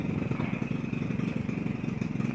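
A fishing boat engine, just cleaned and test-started before heading out to sea, runs steadily with a continuous low rumbling chug and faint clatter, close by, with no talk over it.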